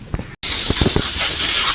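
An aerosol degreaser sprays onto the frame of a 1979 Honda CD175 motorcycle, a loud close hiss that stops for a brief moment and then continues steadily, with faint clicks and low knocks underneath.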